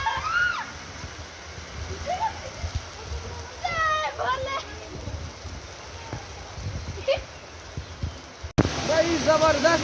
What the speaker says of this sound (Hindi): जबरदस्त बारिश, जबरदस्त बारिश